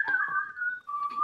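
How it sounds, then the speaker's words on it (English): A whistle sound effect opens a show segment: one sustained, slightly wavering tone with a couple of breathy attacks, fairly loud and alone, with no talking. "Ah, it's the whistle thing."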